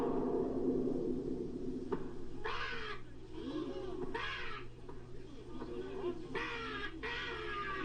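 A crow caws repeatedly in a children's fantasy scene, several rough, grating calls in uneven bursts over a steady background hum, fairly close and clear.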